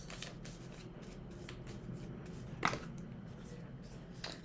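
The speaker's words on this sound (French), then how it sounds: "je tire 6 cartes astrologiques" Astrology cards being shuffled and drawn: a soft, close riffle and flutter of cards with a few sharper snaps and slaps, faint under a quiet background.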